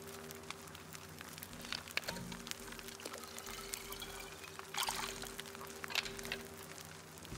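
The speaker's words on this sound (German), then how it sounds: "Warte mal, da kann ich ja mal meine Trinkflasche auffüllen." Water pours steadily while a drinking bottle is filled in the survival video game Sons of the Forest, a continuous splashing trickle with a few louder gushes, no talking.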